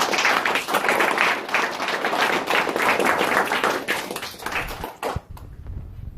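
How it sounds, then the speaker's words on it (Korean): Employees applauding at a company's 24th anniversary event, dense hall-filling clapping sustained for about five seconds before it stops abruptly into quiet room tone. "우리 서로에게 한번 박수 한번 보내줍시다"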